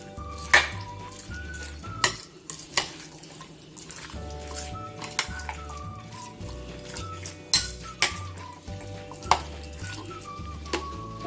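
Papri chana chaat ingredients with tamarind chutney and yogurt get stirred together in a bowl, with a spoon tapping and clinking against the dish at irregular intervals, fairly soft and close, over a constant low hum.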